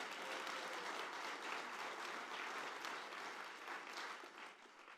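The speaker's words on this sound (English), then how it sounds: "Let's give all of them a round of applause" Steady audience applause at a food and flavor conference's opening remarks, a dense wash of clapping from a large crowd that holds level for several seconds and begins to thin out at the end.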